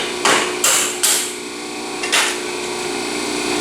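Hammer blows swedging the cut end of an exhaust pipe for a 1953 Chevy rat rod: four sharp metallic strikes, three in quick succession then one more after a pause, close and ringing over a steady background hum.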